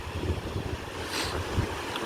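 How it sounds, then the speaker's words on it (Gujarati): Gentle sea waves washing onto Kuda beach, a soft continuous rush with wind buffeting the microphone. "ધીમા ધીમા મોજા આવે છે"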